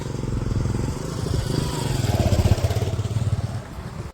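Near a river crossing, a motorcycle engine chugs nearby with a rapid, even thump that swells and grows closer and louder before it cuts off.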